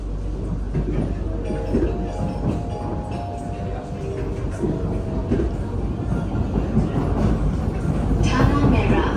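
Singapore SMRT train riding the Changi Airport Line between Expo and Tanah Merah on the upper track, a steady close rumble of wheels and carriage running without a break, swelling slightly toward the end.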